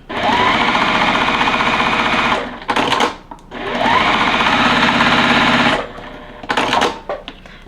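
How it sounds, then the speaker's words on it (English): A sewing machine runs in two long bursts of stitching as quilting fabric is sewn a scant quarter inch from a marked line, with short clatters of handling in between and no talk. "we're going to stitch on either side of the line using a scant 1/4 of an inch"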